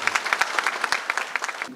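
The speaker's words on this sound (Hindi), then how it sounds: "मैं आप सबसे गुजारिश करूंगा कि पुरजोर तालियों में इनको वेलकम कीजिएगा" Applause welcoming candidate Chaudhry Qaiser Imam at an Islamabad District Bar Association election gathering, a brief burst of crisp, uneven hand claps from a small crowd, fairly near.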